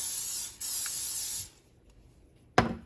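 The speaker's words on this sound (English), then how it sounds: "we're going to spray it with our spray" A sustained hiss of cooking oil spray onto a hot pan, paused briefly and resumed, followed by quieter stillness and a short sharp clatter near the end.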